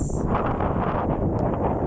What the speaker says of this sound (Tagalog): Ang sarap ng hangin dito, ang sarap ng hangin.